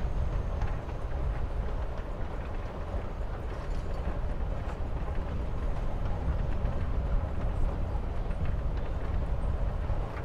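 A moving train in the video game Life Is Strange: Before the Storm gives a continuous low rumble with steady rattling and clatter, filling the scene evenly throughout with no talk.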